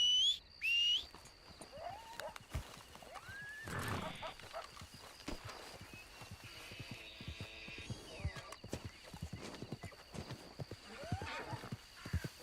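A horse in Red Dead Redemption 2 whinnies and snorts amid clip-clopping hooves, with whistling and faint humming tones over a quiet outdoor game background and a person talking in places.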